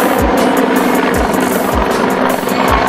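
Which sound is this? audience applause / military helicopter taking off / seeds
military helicopter taking off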